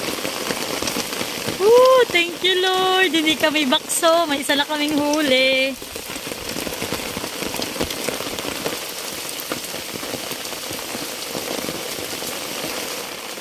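Steady rain patters on a surface, dense and close, while people talk over it near the start, during river fishing in strong wind.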